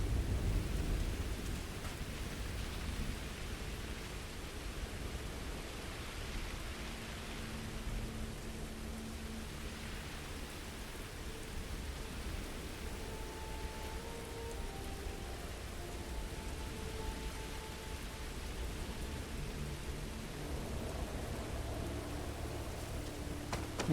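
Steady rain hisses through a thunderstorm in the video game Starfield, with a low rumbling bed of thunder and faint tonal layers running continuously at moderate level, no speech.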